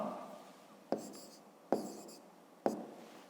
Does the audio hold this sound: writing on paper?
yes